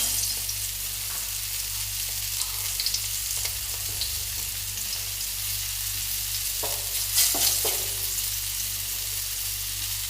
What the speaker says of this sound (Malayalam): എണ്ണ ചൂടായി വന്നിട്ടുണ്ട്. എന്നിട്ട് നമുക്ക് കറിവേപ്പില ഇട്ട് കൊടുക്കാം.